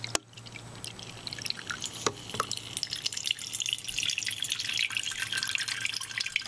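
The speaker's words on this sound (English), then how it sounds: "and pour it directly into the filter." Water poured into a coffee maker filter, a steady trickling and splashing stream that builds slightly and runs on without a break, close up and with no speech.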